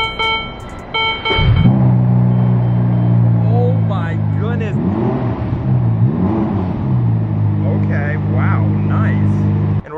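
A Ferrari engine cranks and catches, then idles and revs up and down loudly and close, the engine note rising and falling over about ten seconds with no one talking.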